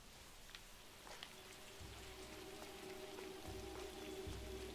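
Steady rain in the video game L.A. Noire patters across the whole stretch, a dense hiss with scattered drops, and a low hum swells in and out beneath it.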